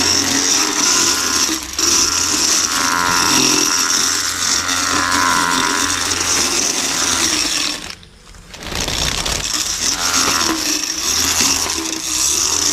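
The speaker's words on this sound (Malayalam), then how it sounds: "ഇനി നമ്മൾ ഈ ഒരു പുല്ല് കട്ട് ചെയ്തിട്ട് നോക്കാം." A homemade rechargeable grass cutter runs steadily through grass with a loud, constant whirring buzz, dipping briefly midway before picking up again.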